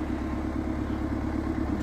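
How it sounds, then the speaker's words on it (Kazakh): A tractor engine idles and warms up on a snowy January day. The low, steady rumble hums evenly throughout with no pauses, and nobody speaks. "тракторге қол тиіп, тракторды қыздырып"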